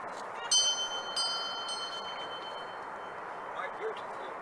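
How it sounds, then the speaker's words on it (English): A small bell rings with a high, thin metallic tone in a couple of quick strokes that linger briefly, heard faintly over a steady background hiss. "My beautiful bell."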